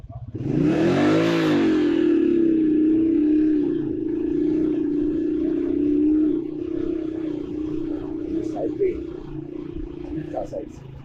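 A car drives and revs on a stony, drying mud village road on the way toward Sharda, its engine surging loudly at first and then holding a steady drone, with faint talk underneath.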